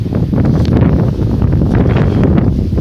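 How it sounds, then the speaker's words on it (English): Strong wind buffets the microphone on high ground in South Oxfordshire, a continuous loud roar and rumble, with no voices. "It's a little bit windy up here."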